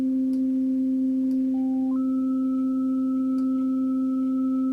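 Two steady synthesized FM operator tones layered together, one fixed and one stepping upward in pitch partway through, clean and sustained with no talking.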